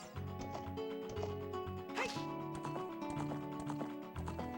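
Hooves of a galloping horse in The Legend of Zelda: Ocarina of Time, a steady rhythmic clip-clop running under looping game music, with a brief whooshing burst midway.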